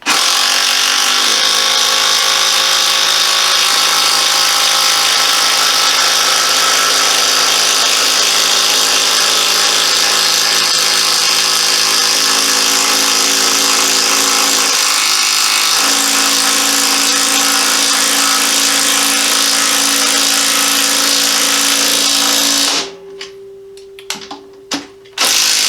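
A Craftsman 20v brushless cordless impact driver drives a screw into wood with no pilot hole, a long loud continuous whine with a brief dip midway, ending in a few short stuttering bursts.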